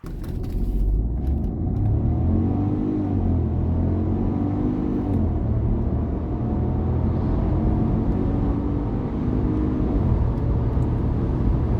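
A 2021 Ford Puma 1.0 EcoBoost mild hybrid accelerates hard toward 100 km/h, a steady close engine drone with rising harmonics across repeated gear pulls, heard alone without talk.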